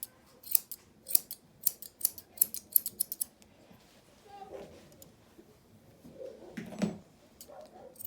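Scissors snipping hair while shaping a top knot, a quick series of crisp close cuts in bursts, then softer handling noises and brief quiet speech near the end.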